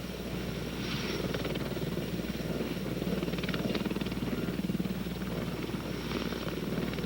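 A CH-54 heavy-lift helicopter running with a steady rotor chop and engine whine, loud and continuous with slight swells in intensity.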